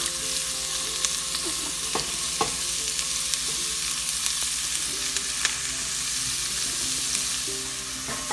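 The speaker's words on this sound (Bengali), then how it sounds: "পেঁয়াজটাকে ভালো করে ভেজে নেওয়া হচ্ছে। আমি একটু নাড়া দিই।" Onions fry in oil with cinnamon, cloves and cardamom as they are stirred, a continuous close sizzle dotted with scattered clicks and scrapes of the utensil, with no voices over it.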